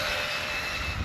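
An MJX Hyper Go 14301 mini RC street basher car on a 3S battery whines at a high, steady pitch in one brief, fairly close burst with no talk.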